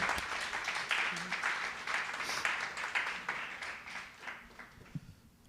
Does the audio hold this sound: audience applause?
yes